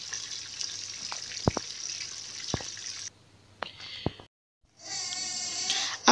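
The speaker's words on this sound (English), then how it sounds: "Now I set it aside and started frying my mackerel fish" Mackerel fish sizzles and crackles in a frying pan with a steady hiss broken by sharp pops, cutting out briefly before the frying noise returns near the end.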